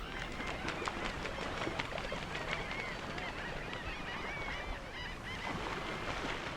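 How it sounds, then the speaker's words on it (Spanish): Large flocks of waterbirds gather at sunset on the edge of mangroves, a dense, distant chorus of overlapping honks and calls over a steady outdoor background, with no voices. "Al atardecer, grandes bandos de aves mueven la quietud reinante en la periferia de los manglares."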